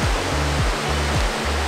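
Rainbow Falls, a waterfall in Watkins Glen State Park, gives a steady, loud, broadband roar of falling water that fills the whole moment, with no voices.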